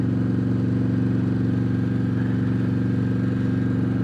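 A 2020 Harley-Davidson Road Glide Special with a Stage II S&S 475 cam, its V-twin held steadily high in the rev range, giving a loud, continuous throbbing drone without shifting or pauses, recorded from the saddle.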